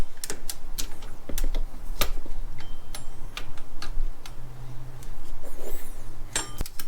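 3/8 drive ratchet wrench loosening power steering pump bolts through the pulley holes on a Dodge Dakota or Durango, a rapid run of close, crisp ratchet clicks in quick irregular bursts, with no talking.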